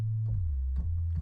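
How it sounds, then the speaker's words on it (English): Simple Bass Lean sub bass synth for a drop: a low, smooth sustained tone that shifts pitch a couple of times, soft and close, with faint upper blips. "I'm using bass lean sub, and it sounds like this."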